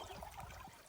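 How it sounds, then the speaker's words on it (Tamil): Goat lungs rinsed in river water outdoors in a village, a faint steady trickle and slosh of flowing water with no voices. "பொடியா கட் பண்ணியாச்சு, ஆத்து தண்ணியில அலசிக்கலாம்."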